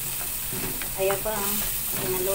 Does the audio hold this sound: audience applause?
no